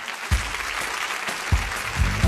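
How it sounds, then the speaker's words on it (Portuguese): Audience applause at a science talk on Mars, water and life, a dense continuous patter of many hands clapping at moderate loudness with no voices over it. "Aplaudam Douglas Galante"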